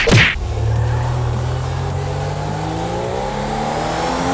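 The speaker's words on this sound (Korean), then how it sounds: "차량 가속력은 빠른 것 같아요 현재 속력 210대를 돌파했고요" A 2021 BMW M5 accelerates hard in GTA5 after a brief click at the start. The engine note climbs steadily and smoothly, loud and close, in one continuous rising roar.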